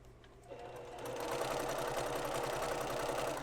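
A sewing machine runs steadily while stitching a quilt-top seam, its motor whirring in a continuous close, loud drone after a brief softer start.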